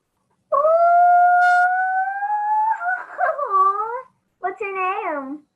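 A dog howls in one long rising, wavering note, then breaks into shorter wobbling howls after a brief pause, loud and close with no other sound around it.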